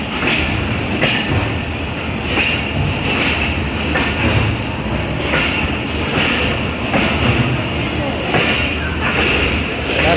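Train at Attock Junction railway station at night, rolling with rhythmic wheel clicks at regular intervals and a constant rumbling drone, loud and close, with a squealing high tone running through it.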